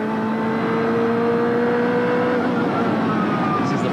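A Ferrari F40 twin-turbo, 650-horsepower Italian supercar, screams through a 1995 BPR Global GT qualifying lap at the Jerez circuit, heard onboard as a loud, continuous engine roar with pitch shifting through the gears.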